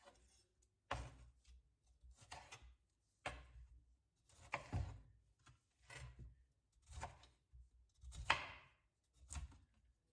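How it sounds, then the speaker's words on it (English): Broccoli being roughly chopped on a board, about nine separate knife chops in an uneven rhythm, quiet and close, with no talk. "Then we need to roughly chop this up first."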